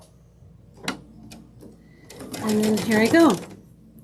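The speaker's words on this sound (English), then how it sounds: "And then I'm just going to start sewing." A sewing machine stitches a quilted wall hanging, a steady whirring burst of rapid needle strokes building up after a few soft clicks, while someone briefly speaks nearby.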